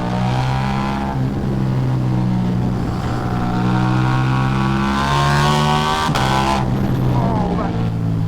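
A Ducati V4 Diavel motorcycle with a full Akrapovic exhaust revs hard under throttle, a loud, close, sustained engine drone rising and falling in pitch, with a sharp crack near the end.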